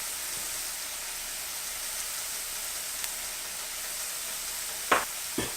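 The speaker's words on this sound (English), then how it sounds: "I'm just really using whatever in my cabinet to saute and cook these onions" Onions sizzle while being sautéed in a pan, a steady close hiss throughout with a couple of brief knocks near the end.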